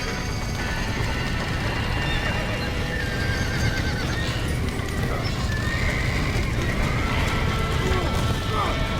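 Horses neigh and whinny over a steady clatter of hooves in Red Dead Redemption, with shouting voices and a busy, dense background throughout.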